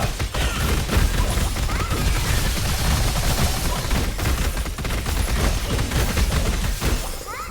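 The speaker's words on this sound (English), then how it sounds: "Those bombs are so annoying." Bombs explode over and over in the video game Star Fire Eternal Cycle, a dense, continuous barrage of loud blasts and crashes with no break.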